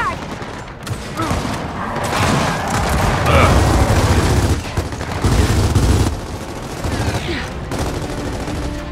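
Gears of War 4 combat erupts with a frag grenade blast amid sustained gunfire, loud rapid bursts and booming impacts layered densely, easing briefly before more shots.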